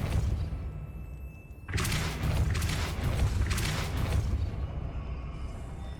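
A Depulso spell cast in Hogwarts Legacy sets off a sudden loud rushing burst of noise that swells and pulses for several seconds before easing off.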